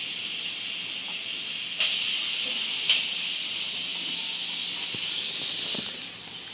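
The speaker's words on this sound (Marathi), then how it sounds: "हा जो कांदा ठेवलाय मी इथे कापून ऑलरेडी, तो कांदा मी इथे टाकते" Chopped onion sizzles in a hot pan with steady, hissing, steam-like noise at moderate volume, marked by two brief, sharper clinks partway through.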